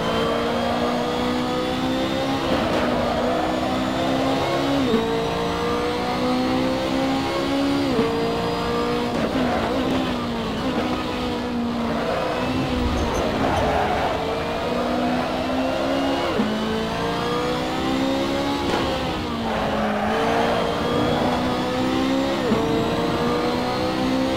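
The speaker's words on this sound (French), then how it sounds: "La Ferrari qui revient derrière" A Ferrari race car engine roars steadily in a racing video game, revving and shifting through gears as it closes in from behind, loud and continuous throughout.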